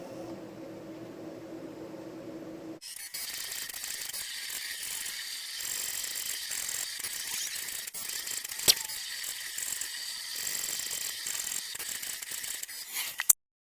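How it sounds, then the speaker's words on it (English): A Cricut cutting machine drives its rotary blade through t-shirt fabric, with a steady mechanical whir and grinding hum close by. It follows a few seconds of quieter machine tones and stops with a sharp click. "I'm going to go ahead and hit cut. And I have the rotary blade in here, so it's going to go ahead and do its thing."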